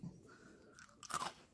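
Someone bites into Simpsons chocolate cereal, a faint quiet chew followed by one sharp close crunch.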